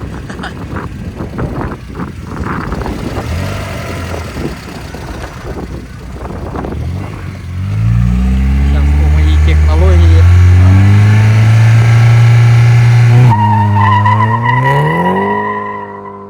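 An Opel Calibra Turbo warms its tyres with a loud revving engine and squealing rubber that build into a sustained roar and then rise again in pitch, while people talk over the noise early on.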